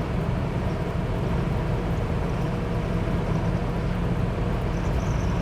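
A 1955 Dodge Royal Lancer cruises at around 60 miles an hour, a dense constant rumble of engine, road and wind noise heard from inside the car, steady and unbroken with no voices.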